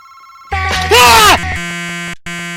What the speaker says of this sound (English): And a phone call distracted me.